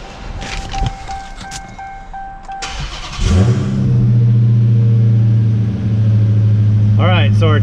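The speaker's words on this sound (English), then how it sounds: "we'll go and start the vehicle" Dashboard chimes and clicks give way to an engine cranking and catching, then a steady loud idle hum; a short whine rises near the end.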